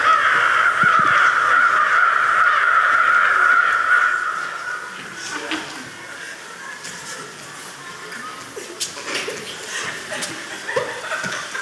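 A contestant at the 56th annual bird calling contest imitates a crow, voicing loud, harsh caws for several seconds before the crowd breaks into scattered laughter and chuckles.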